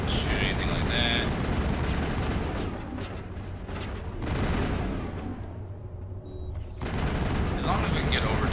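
Gunfire in the video game Mass Effect 1, loud sustained bursts of shots with brief lulls, with a player's voice heard intermittently.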